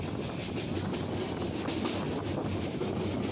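A passenger train travelling from Sreemangal to Dhaka, heard from inside with windows open, gives off a steady rumbling roar with faint rhythmic wheel clicks and no talk.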